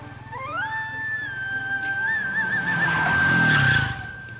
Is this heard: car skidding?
yes